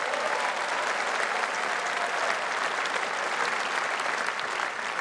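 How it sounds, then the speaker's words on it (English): A crowd at a Reform UK political rally in Birmingham applauds, a thick, even roar of clapping that holds steady and loud for five seconds with no break. "Sarah Potion, ladies and gentlemen, give her a round of applause"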